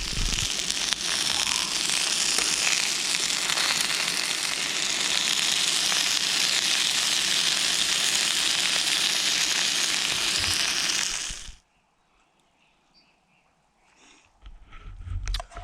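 Butcher's burgers and sausages with onions fry at a wild camp, a loud, dense sizzle running steadily for about eleven seconds before cutting off to near silence, with faint rustling returning at the end.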